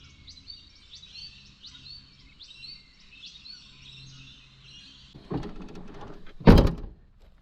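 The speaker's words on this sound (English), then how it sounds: "Lots of bird song." Birds sing at a quiet riverside campsite, River Haven Tourist Park near North Broulee, Australia, at sunset: a steady string of repeated high chirping calls, fairly soft and slightly distant. Near the end, two loud nearby thumps like a door closing break in.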